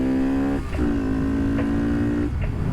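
A small mini bike engine runs close by with a steady buzzing drone, its pitch dipping and recovering briefly a few times.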